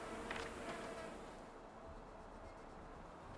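Bees hum steadily around a beehive in KAKU: Ancient Seal, a soft, continuous insect buzz that stays faint and even throughout.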